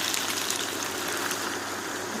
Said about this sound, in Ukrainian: До картоплі з печінкою додаємо гарячої води